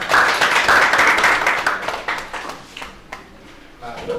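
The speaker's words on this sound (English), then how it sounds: "Clap for them." Audience at a university international conference claps steadily for several seconds, then the applause thins out to scattered claps and faint voices in the hall.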